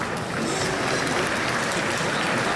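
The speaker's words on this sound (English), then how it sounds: "Yeah, big applause." An audience applauds at a KTM motorcycle launch where the 450 Dakar rally bike is unveiled, producing a dense, continuous roar of clapping that stays loud and even throughout.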